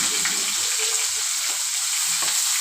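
Onions and green chillies frying in a pan, a loud, constant close-up sizzle with occasional stirring scrapes and no voices.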